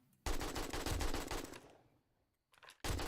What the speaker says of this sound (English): Don't make me use the AK on you.